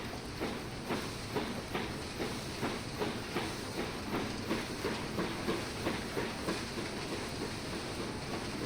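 Train rolling along in a Scottish railway simulator game, a steady rhythmic clickety-clack of wheels over rail joints with a constant hiss, continuous and fairly even in level, no voices.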